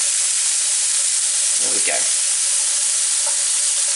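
Mushrooms and bacon sizzle in a pan lifted off the heat for a bolognese sauce. The hiss is loud and continuous and close, with a brief stir and a short spoken remark partway through.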